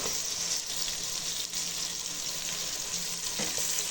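Vegetables sauté in a pan for carrot rice, with a loud, close, continuous sizzle of frying and occasional stirring scrapes throughout.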